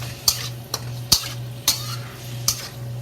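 Precooked shrimp cooking in a pan over high heat, a steady low hiss broken by five sharp scraping clinks of a utensil against the pan at irregular intervals, close up, no voices.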